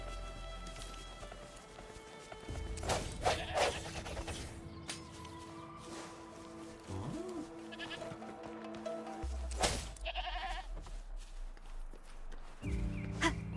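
Several bleats from a sheep in the video game Wuthering Waves, with hoof-like steps and game sounds around them, and no talking.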